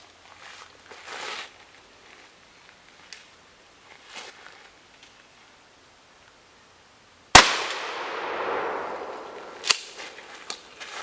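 One loud, sharp blast from a Remington 870 shotgun loaded with double-aught buckshot on an outdoor range, ringing off into a decaying tail, followed by a smaller metallic clack and light movement sounds.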